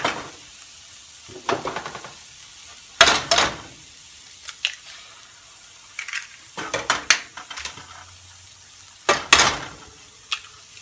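Eggs added to a hot pan for a keto breakfast alongside bacon, with a soft sizzle under repeated clinks and scrapes of a utensil against the pan in irregular bursts.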